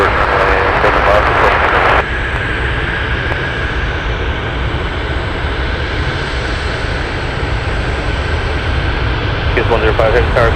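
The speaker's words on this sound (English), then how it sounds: "We're gonna stay with the takeoff" Jet airliner, likely a Boeing 747 heavy at Anchorage airport, rumbling steadily through its takeoff roll as a loud, sustained broadband engine roar that holds for the whole stretch, with radio chatter over it at the start and end.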